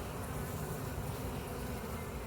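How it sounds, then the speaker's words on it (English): Dense, steady buzzing of many honey bees crowded on a hive frame, close and continuous with no talk. "That's a baby bee. She just came out."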